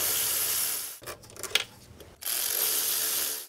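Close mechanical ratcheting and clicking while a bolt is backed out during a starter motor job on a 2008-2011 Mitsubishi Lancer, set between two stretches of steady broadband noise, with no voices.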